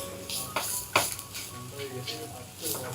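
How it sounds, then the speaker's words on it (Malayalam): A spoon stirs chicken filling in a pan with a few scraping strokes over a soft sizzle, close by, with sharper scrapes about a second apart. "ഇനി ഇതൊന്ന് ഇളക്കി കൊടുക്കാം. ഒരു 10 സെക്കൻഡ് ഒന്ന് ഇളക്കി കൊടുക്കാം"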